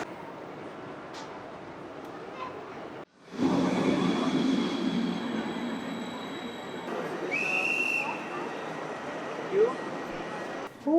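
Interior of a passenger train compartment in Poland, with a steady rumble of rolling stock, a brief whistle-like tone and occasional squeaks, with people talking nearby.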